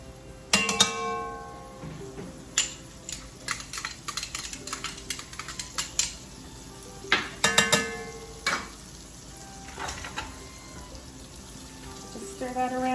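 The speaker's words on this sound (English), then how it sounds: "Just stir that around, let the garlic cook for 30 seconds or so." Garlic cooking in melted butter in a pan while being stirred, with light sizzling under a busy series of sharp utensil clicks and scrapes against the pan, close and clear.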